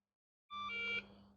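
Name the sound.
Losi Pro Moto bike and DX3 handset beeping on power-up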